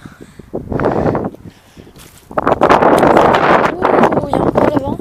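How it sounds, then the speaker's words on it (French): Gusts of outdoor wind buffet the microphone in loud, rough bursts, a short one early and a longer sustained roar later, heard around a parkour spot. "Il y a encore le vent."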